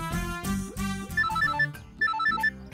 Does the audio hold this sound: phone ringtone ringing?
yes